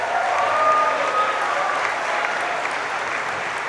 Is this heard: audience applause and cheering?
yes